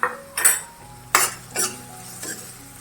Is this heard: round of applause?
no